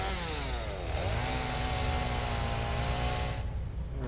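A chainsaw in the video game Satisfactory buzzes loudly and steadily, its pitch shifting once as it revs, then cuts off near the end.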